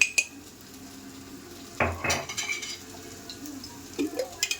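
A spoon scrapes and clinks against a cooking pan while spices and chilli powder are mixed, giving a few sharp metallic knocks and soft stirring scrapes over a quiet background.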